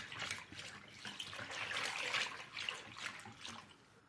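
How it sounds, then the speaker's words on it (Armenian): Sunflower oil pours in a soft, steady trickle into a dough mixture for rosy buns, a faint close liquid dribble lasting a few seconds with no talk. "ավելացնում ենք ներողություն արևածաղկի ձեթը"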